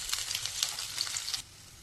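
Stuffed okra (lady finger) frying in a pan gives a soft, steady crackling sizzle with small pops, close and fairly quiet, which drops to a fainter hiss near the end.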